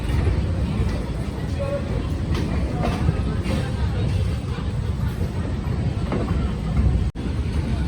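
The Gomti Express from New Delhi to Lucknow rolls into Ghaziabad Junction with a steady loud rumble and clatter of railcars, a sharp clunk near the end, and a hubbub of station voices around it.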